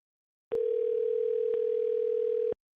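A telephone call tone on a livestream rings as one steady, loud tone lasting about two seconds, with a few faint clicks near its start and no talk over it.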